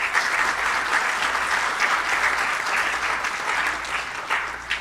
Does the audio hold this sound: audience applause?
yes